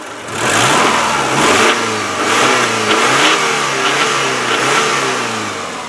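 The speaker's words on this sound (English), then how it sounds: "Let me rev it up for you." A 2000 Subaru Forester S boxer engine revs up loudly and holds a steady, throaty roar, dipping and rising a few times, with no talking.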